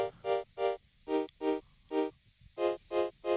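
A bright buzzy synth chord layered from saw waves on three oscillators pulses in short, evenly spaced stabs, about ten hits with brief gaps, clean and isolated.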